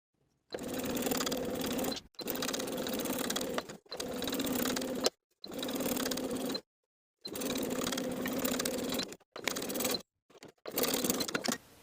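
A sewing machine stitches the binding to the top of a hoodie bodice in several steady runs of a few seconds each, broken by short silent pauses, loud and close with no talking.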